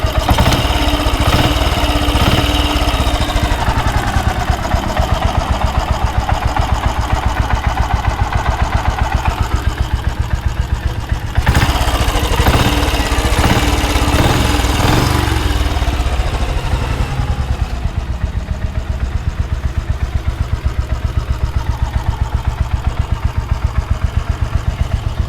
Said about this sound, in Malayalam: സ്റ്റാർട്ടിങ് നോയ്സാണ്.